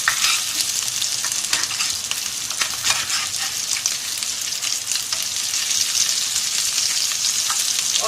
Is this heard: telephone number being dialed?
no